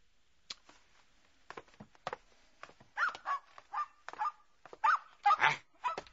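A Pekingese puppy barks and yips in sharp, irregular bursts, thin at first and then louder and more frequent, close by against a quiet indoor background in a radio drama scene.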